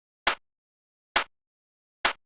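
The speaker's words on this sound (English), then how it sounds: "Then we have the clap." Three crisp electronic clap hits from a production sample, bright and snappy with short decays, evenly spaced about a second apart and isolated in silence.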